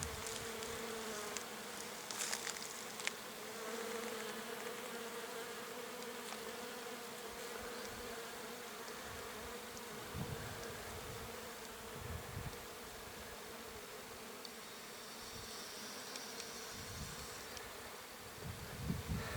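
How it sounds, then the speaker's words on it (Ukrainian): Many bees buzz on flowering rapeseed in a steady, low continuous hum, fairly faint and unbroken throughout, with an occasional closer insect passing by. "Як бджоли гудуть на свиріпі?"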